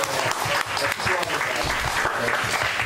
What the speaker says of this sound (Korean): 우리 여자 성도님들을 위해서 우리 격려의 박수 한번 합시다.